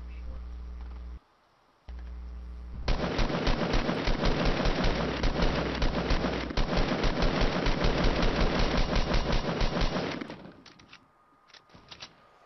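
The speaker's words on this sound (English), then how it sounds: "Jose's getting shot at" Rapid gunfire crackles through a video game firefight, a dense sustained burst of automatic shots that runs for several seconds, loud and close, then cuts off.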